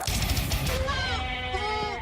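A goat bleats in a single drawn-out, wavering call that trails off over a couple of seconds, fairly close and heard alone.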